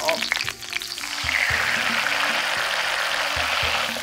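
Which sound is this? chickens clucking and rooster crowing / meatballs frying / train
meatballs frying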